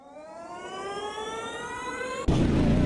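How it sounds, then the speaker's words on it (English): In the AMS2 racing game, a race car's electric bump start: a steady rising electric whine with layered tones, then a sudden louder broadband burst as the engine catches near the end, with no talk. "what you heard there was an electric bump start"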